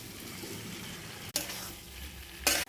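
Fried potato, pointed gourd and prawns are tipped into a hot spice paste for a Bengali curry. A soft sizzle and stirring scrape are broken by two sharp bursts of frying as the pieces drop in.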